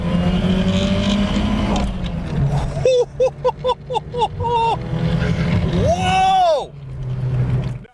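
A 1980s Ford car driven hard, its engine droning loudly before revving through a rapid series of sharp gear-change bursts, then climbing in one long rising howl before easing off, with speech at moments.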